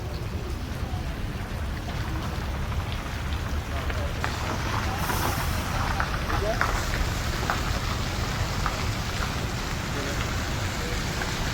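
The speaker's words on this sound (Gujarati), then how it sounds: "વરસાદ ધીરે ધીરે ચાલુ." Light rain falls steadily outdoors as a continuous even hiss of drops on surfaces, with voices talking faintly underneath.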